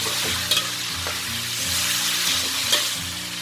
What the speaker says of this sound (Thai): เวลาทอดหมูแล้วมันน้ำมันชอบกระเด็นนะยิ่งเป็นหมูสามชั้นที่มีหนังแบบนี้นะ